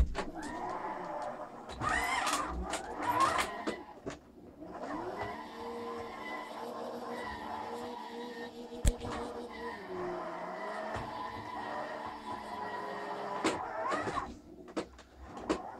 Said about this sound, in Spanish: yo aquí hago un trompo